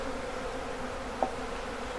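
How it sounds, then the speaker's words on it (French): A swarm of honey bees hums steadily at the hive entrance, a faint, continuous, even buzz with one brief louder tick partway through, with no voices. "je vois que les abeilles en bas rentrent"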